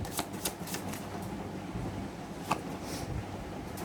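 Tarot cards are shuffled close by in a quiet room, soft papery riffles and light slaps in short bursts, with a few sharper clicks.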